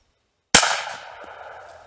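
One loud, sharp shot from a Ruger PC Carbine 9mm take-down rifle breaks the silence, then rings off and fades over about a second.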